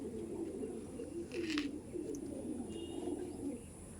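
Andhra pigeons coo in soft, repeated low murmurs, a steady close flock sound with a brief brighter chirp partway through and no talking.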